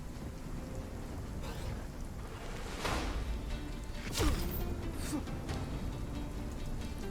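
Thunderstorm in the video game RuneScape: Dragonwilds, with steady rain hiss and sharp lightning cracks and thunder bursts, one strike louder than the rest.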